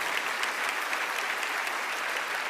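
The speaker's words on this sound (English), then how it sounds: "can we clap it up for our families?" A seminar audience claps for their families, a steady, dense wash of applause from many hands filling the room at even volume throughout, with no voices over it.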